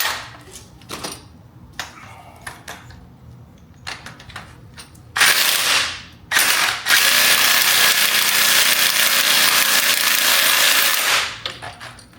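A power tool unscrews a bolt while Dinan lowering springs go onto a BMW X5M: a few sharp ratcheting clicks, then bursts of loud, steady whirring, the longest lasting several seconds close by.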